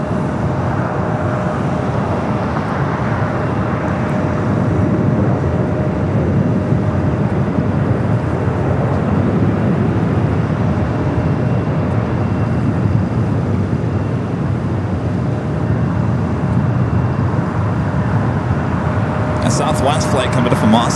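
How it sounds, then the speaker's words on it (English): A Southwest airliner inbound from Austin approaches LAX under cloudy skies, its loud, steady broadband roar holding throughout, with a faint high chatter near the end. "Southwest flight coming up from Austin, Texas,"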